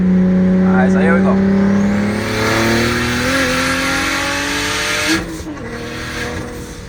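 A 500hp big-turbo Saab 9-3 Aero convertible pulls hard with its wheels spinning: a loud, close engine climbing through rising revs, then a shift and a renewed climb, with tire noise throughout and a voice talking over it.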